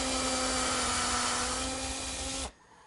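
A power drill bores through the wooden side of a serving tray, a steady, loud, high whine that runs for about two and a half seconds and then abruptly stops.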